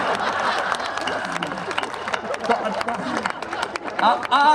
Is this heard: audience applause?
yes